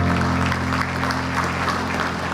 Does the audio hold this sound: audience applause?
yes